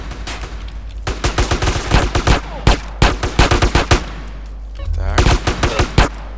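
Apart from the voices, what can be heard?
gunfire in video game GTA San Andreas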